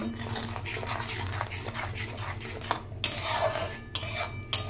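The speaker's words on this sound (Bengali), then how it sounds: "মশলাটা খুব ভালো করে ভাজা ভাজা হতে দেব।" Spice paste for a teal paneer dish stirred and fried in a pan, with repeated scraping and clinking of a utensil against the metal and a soft sizzle underneath, close and moderately loud, with no voices.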